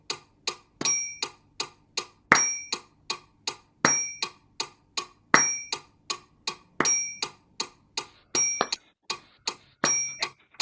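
A steady ticking beat, like a metronome, with a brighter bell-like ding marking the first beat of each repeating group, clear and close with no talking.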